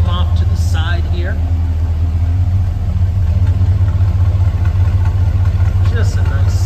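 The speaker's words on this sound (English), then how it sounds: "Listen to that exhaust here. We got dual pipes that come off to the side here." A 1969 Chevrolet C10 long-bed pickup idles through dual side-exit exhaust pipes, a steady, deep, loud rumble running throughout while someone talks over it.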